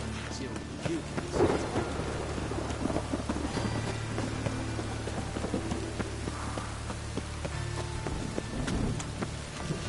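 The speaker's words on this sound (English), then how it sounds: "A storm, damn it." Thunderstorm in The Witcher 3 video game: steady rain with a deep rumble of thunder, a louder crack early on, and a horse's hooves clopping faintly underneath.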